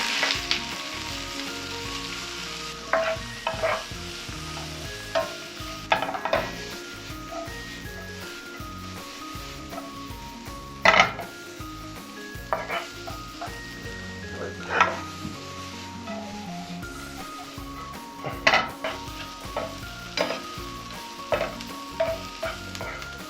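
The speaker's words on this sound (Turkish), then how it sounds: "Karıştıralım." Meat sauté is stirred in a hot pan, sizzling quietly the whole time, with a spatula scraping and clinking against the pan in irregular bursts. Nobody speaks.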